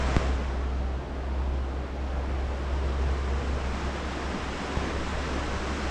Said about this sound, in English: I like this because we're next to the river. I just love river action